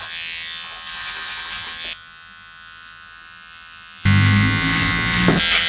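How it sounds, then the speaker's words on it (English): An electric hair trimmer buzzes loudly over a comb during a taper haircut, cutting steadily, dropping to a quieter hum for a couple of seconds, then surging back to a strong close buzz. "Just working the trimmer over the comb, again pushing hard, then kind of taking away and easing with the pressure."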